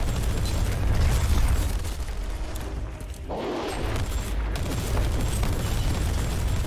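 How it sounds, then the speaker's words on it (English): Artillery strikes in the game Warhammer 40,000: Inquisitor – Prophecy set off loud, continuous booming explosions with dense rumbling blasts and debris, briefly thinning out before the barrage rolls on. "So the artillery strikes are obviously very, very useful"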